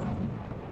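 A single heavy blast from a hunting shotgun in the World War I shooter Battlefield 1, a dense, booming burst that fills the whole brief moment with rumbling low-end energy and no voices.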